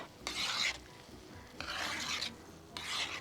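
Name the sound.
stirring prawns into paella in pan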